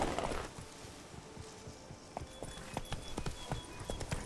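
In Witcher 3, Geralt's horse Roach trots with quick, even hoofbeats on a hard surface, moderately close and fairly quiet, with a brief louder burst at the start.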